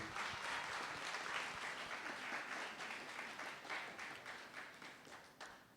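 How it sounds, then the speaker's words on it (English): Applause fills a hall at a teen pageant as the crowd claps steadily for the president, a dense, fairly distant wash of hands that gradually eases off. "Let's give him a round of applause, please."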